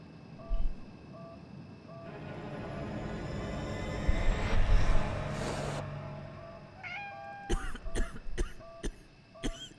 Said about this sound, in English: if I'm coughing this bad